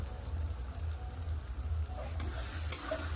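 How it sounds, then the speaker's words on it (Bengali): Spices with turmeric, chilli powder and salt frying with chickpeas in oil, a continuous soft sizzle with a low hum underneath and a few light scraping clicks of stirring near the end. "যতক্ষণ তেল ধরে ছাড়ে ততক্ষণ ভালো করে কষে নেব"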